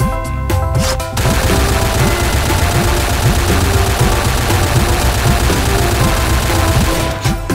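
Sustained automatic AK47 fire with the trigger held down in the Point Blank shooter game, a dense, loud, continuous stream of rapid gunshots running almost the whole clip after a brief opening.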